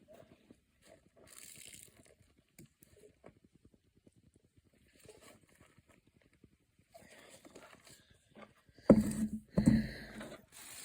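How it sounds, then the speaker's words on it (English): Tomatoes are rinsed and drained at a kitchen sink: faint scattered trickles and taps give way near the end to two louder bursts of splashing, sloshing water. "So just give those tomatoes a little rinse"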